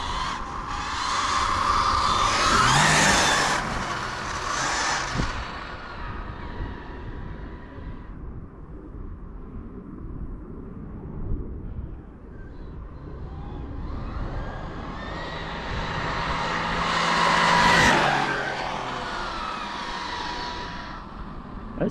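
A 1:5-scale FG Mini Challenge RC car on an SBR 2.0 chassis is driven around, its small petrol engine buzzing and whining as it passes close, fades into the distance, then revs past again.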